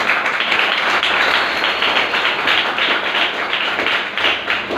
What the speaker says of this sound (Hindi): बताइए एक बार जोरदार तालियां वैसे के लिए।